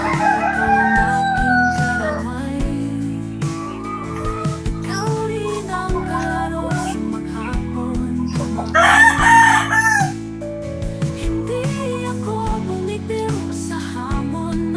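Roosters crow loudly and repeatedly amid clucking chickens, with one crow standing out close by near the middle and others farther off.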